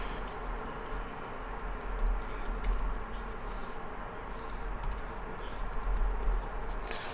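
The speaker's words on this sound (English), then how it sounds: "sorry, I had to type something in, a note to myself" Steady typing on a computer keyboard, a continuous patter of key clicks over a low background hum, close and fairly loud, with no talking.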